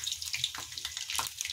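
Frying food in a pan crackles and spatters in quick bursts after a wet spatula touches it, steady sizzle with sharp pops, fairly close and moderate in level, no voices.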